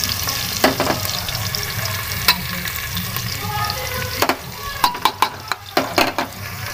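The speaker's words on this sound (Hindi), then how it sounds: "जो प्याज है वो डाल दूंगी। अब मैं मिर्ची डाल दूंगी।" Onions and chillies frying in a pan, a steady close sizzle with the sharp scrape and knock of a spoon stirring repeatedly, the taps coming in a quick run toward the end.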